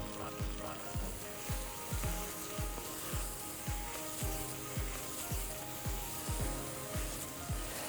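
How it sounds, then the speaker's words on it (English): Onions and garlic with a pinch of salt sizzling in foaming butter in a pan, a steady crackling fry broken by soft rhythmic stirring scrapes at a moderate distance. "I'm going to use half of that now to saute the onions."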